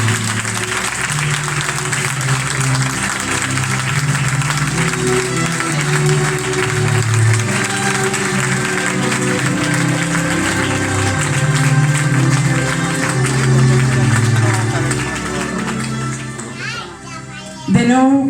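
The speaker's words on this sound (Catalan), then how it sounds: "Rebem amb un fort aplaudiment a este escenari a Grego Acevedo." Long sustained audience applause welcoming an artist onto a stage at a Falles event at Mercat de Colón, dense and steady, with children's voices and chatter mixed in, fading near the end.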